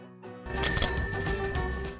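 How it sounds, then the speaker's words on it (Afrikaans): A bicycle bell rings once, bright and metallic, its tone ringing out and fading over a couple of seconds. "Dis reg, dit is 'n fiets."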